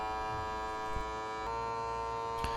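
The small electric motor of a mason jar vacuum sealer hums steadily and closely with a constant buzzing tone, broken only by a couple of faint clicks.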